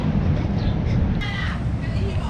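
A crow caws a few times, brief and somewhat distant, over a loud, constant low rumble of traffic or engine noise in England.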